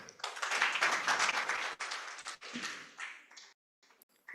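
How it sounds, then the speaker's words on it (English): An audience at a social protection dialogue applauds the panel with a loud burst of dense clapping that gradually thins out, scattered last claps trailing into near silence. "And let's clap for the panel."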